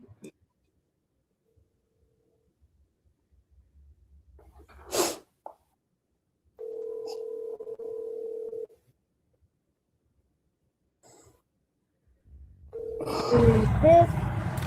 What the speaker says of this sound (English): You can hear her phone ringing.